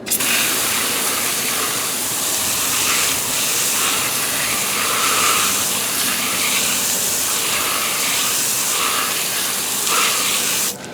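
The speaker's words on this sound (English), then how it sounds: "Let me rinse this off." Water spray rinsing a car wheel rim during a detailing job after a wheel cleaner has dissolved brake dust, a steady continuous hiss running loud and unbroken throughout.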